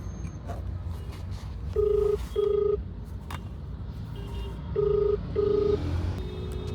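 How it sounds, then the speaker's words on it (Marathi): An outgoing phone call ringing without being answered: two double-pulse ringback tones repeat at a regular interval over faint background hum, with no one speaking. "मॅडम तर आता फोन उचलत नाही आहेत"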